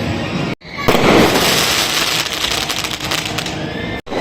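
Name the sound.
firecrackers bursting in the sky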